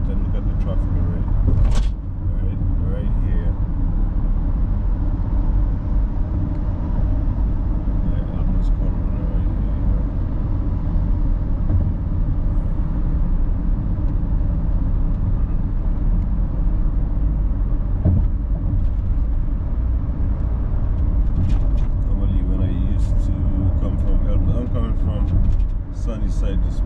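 Road traffic on the drive from Sunnyside, Queens, to Hempstead, Long Island, gives a steady, loud rumble of tires and engines from inside the moving car, with someone talking over it throughout.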